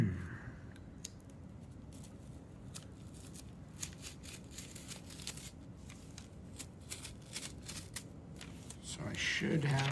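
Scissors snip paper parts for a Delta Dart model plane: a steady run of small, close, crisp cuts and rustles, ending with louder paper handling.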